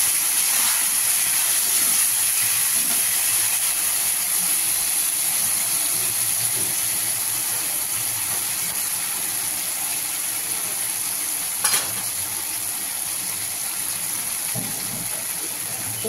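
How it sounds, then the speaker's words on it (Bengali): Mustard-chili paste hits a hot pan of bitter gourd, producing a continuous even hiss of sizzling that holds steady throughout, with one brief sharp tick partway through. "এই যে সর্ষে লঙ্কাটা এবার ঢেলে দিচ্ছি আমি সর্ষে করলা"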